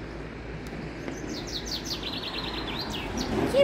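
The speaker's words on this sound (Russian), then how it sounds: "Птички поют." Birds sing in a park near apartments in Alanya, Turkey, a series of quick bright chirps and trills at moderate distance over a faint steady background hum.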